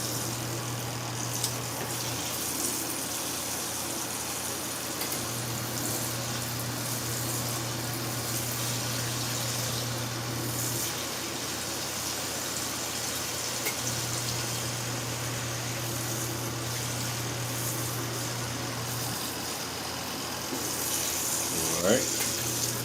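A portable mini twin tub washer churns its load with a continuous watery swish and a low motor hum, steady and close, with a faint voice near the end.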